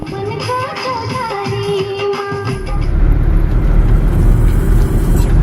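A taxi pushing through heavy festival-time traffic, steady road rumble and engine drone that swells louder and denser halfway through, with higher whirring tones fading out.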